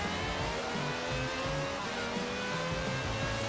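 Ferrari engine in the racing game Forza Horizon 4 revving high and steady, a continuous loud whine with shifting pitch steps as it climbs through the gears, close and without speech.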